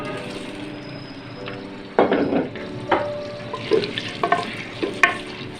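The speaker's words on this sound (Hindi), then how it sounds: "जो गोश्त हमने बॉयल किया था वो अब इसमें हम डालेंगे" Boiled beef dropped into hot ghee in a pot, setting off a sudden loud sizzle that keeps crackling with intermittent spatters and utensil knocks.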